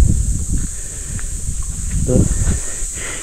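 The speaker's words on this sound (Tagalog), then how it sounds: "Maririnig nyo yung sound ng mga crickets" Crickets chirp in a steady high drone at a forest campsite in Tarlac, with soft rustling and low voices talking over it.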